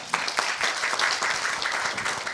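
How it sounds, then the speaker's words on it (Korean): Audience applause at a Korean research-institute entrepreneurship talk concert, a dense steady patter of many hands clapping at once, fairly close and even in loudness throughout with no talk over it. "박수 한번 보내주십시오"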